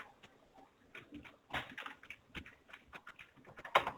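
Someone types on a computer keyboard in quick, uneven runs of soft, close key clicks that carry on throughout, with a few sharper taps standing out.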